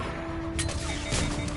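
Gunfire from the video game Mass Effect 3: a few sharp, noisy bursts spaced apart over a steady droning game backdrop, moderately loud with no voices.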